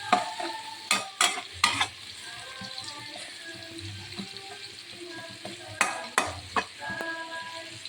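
Onions frying in a pan for a simple Indian-style fish sambal, with a steady sizzle under sharp clattering stirs that come in bursts near the start and again toward the end; no talking.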